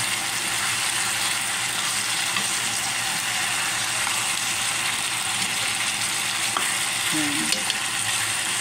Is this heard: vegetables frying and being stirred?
yes